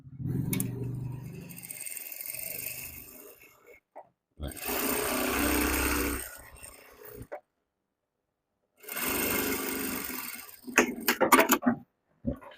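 A JUKI DDL-7000A industrial sewing machine stitches thin, slippery stretch fabric in three separate whirring runs with quiet gaps between them. The runs end in a burst of short mechanical clicks.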